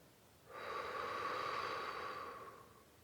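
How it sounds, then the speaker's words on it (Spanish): A long, steady exhale through the mouth during a guided breathing exercise, an airy breath about two seconds long with a soft rise and fade, close and alone with no talking. "Y esta vez exhala por la boca."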